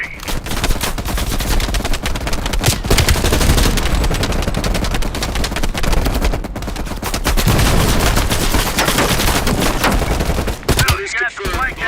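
Machine-gun fire rattles through a Call of Duty: Black Ops Cold War battle. Loud, near, sustained bursts fill almost the whole stretch, broken by a brief pause near the end.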